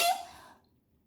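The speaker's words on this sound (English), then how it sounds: "I've got to sneeze." A single sharp sneeze bursts out close and loud, then trails off into quiet within about half a second.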